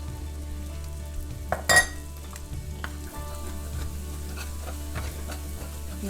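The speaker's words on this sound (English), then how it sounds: "Mix the flour with the grease. Brown the flour up for about a minute or so to get rid of that floury taste." Flour stirred into bacon grease and browned in a pan sizzles steadily, with scraping spoon strokes and a louder clatter near the start.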